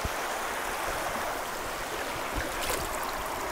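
Steady broadband rush of a stream and waterfall at a hidden forest falls in Tiruvannamalai, continuous and fairly close, with no voices over the flowing water.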